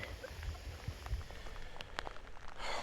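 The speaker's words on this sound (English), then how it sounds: "the wind's picked up along with this rain" Rain falling outdoors during a metal detecting outing, with gusting wind; a steady pattering wash with scattered louder drops and rising gusty noise toward the end, no voices.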